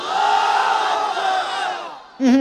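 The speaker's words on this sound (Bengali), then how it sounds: "বিবাহিত ভাইরা তাকবীর দেন" A large crowd of men roars a loud, sustained takbir chant together at a religious sermon gathering, the shout swelling and fading before a sharp new burst at the end.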